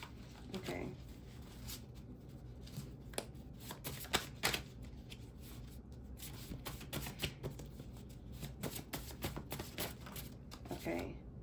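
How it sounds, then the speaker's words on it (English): Tarot cards being shuffled in repeated quick riffling bursts, crisp and close, with soft handling rustles between the bursts. "I kinda wanna pull some more cards."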